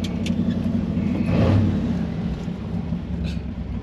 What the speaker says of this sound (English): Sounds good with the glass packs.